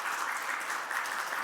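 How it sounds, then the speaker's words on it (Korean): Brief, soft applause from a church congregation welcoming visiting guests during a Sunday service, an even wash of clapping heard somewhat distant. "우리 박수로 환영하시겠습니다."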